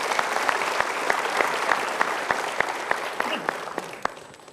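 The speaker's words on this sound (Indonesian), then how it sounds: "Kita berikan tepuk tangan untuk 3 orang ini." A studio audience on a motivational talk show claps warmly and loudly, with a rhythmic unison clap beat running through the dense applause before it gradually tapers off.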